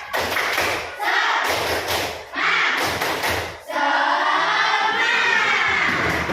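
Classroom of children doing a rhythmic group clap, loud bursts of synchronized clapping and thumping in several rounds with shouting voices between.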